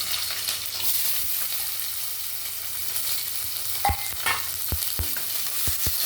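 Green chillies and onion fry in hot oil with whole spices for veg biryani, giving a steady broadband sizzle broken by a few sharp clinks and scrapes of a stirring spoon near the end.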